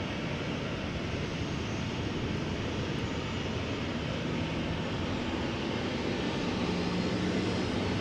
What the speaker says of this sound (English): So this is Sun Express flight 723, Boeing 737-800 going to Kayseri in Turkey.